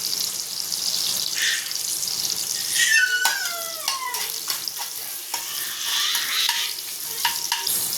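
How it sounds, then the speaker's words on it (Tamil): Onions sautéing and softening in a hot pan for a Madurai-style mutton salna, a steady close sizzle with bursts of stirring and scraping against the metal, no talking. "அது நல்லா வளர்ந்து நல்லா வதங்கட்டும் நல்லா பொன்னிறமாகிற மாதிரி வதங்கட்டும்"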